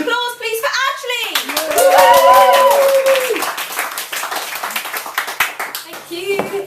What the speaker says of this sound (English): Can we have a huge round of applause please for Ashlea?